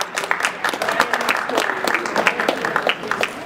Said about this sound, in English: So give Jacob a round of applause.